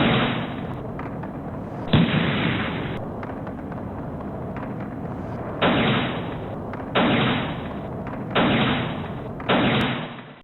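Gunfire during a street clash between Bolivarian government supporters and riot vehicles: repeated loud sharp bursts and volleys crack out at irregular intervals over a constant roar of crowd and street noise, with no talk.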